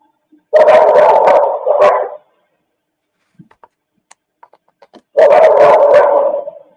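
A dog barks loudly and nearby in two sustained volleys of rapid barks, with faint scattered clicks in the quiet gap between them.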